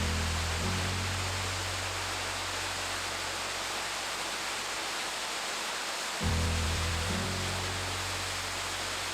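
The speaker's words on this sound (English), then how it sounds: "I next stopped at Narada Falls, a majestic channeled waterfall easily accessible from the parking area just off the main road." Narada Falls, a channeled waterfall at Mount Rainier, roars as a steady, dense wash of broadband noise that holds throughout, with a faint low hum fading in and out near the start and end.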